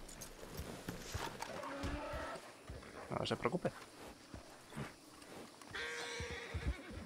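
In a Red Dead Redemption II roleplay scene, a horse whinnies and hooves clip-clop amid game ambience, while people talk in Spanish over the top.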